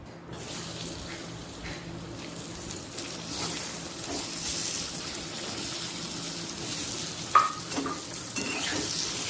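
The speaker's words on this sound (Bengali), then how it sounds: "আলুটাও লাল করে ভেজে তুলে রাখবো" Potatoes coloured with a little turmeric fry in oil in a pan, a continuous close sizzle with occasional stirring scrapes and one brief clink.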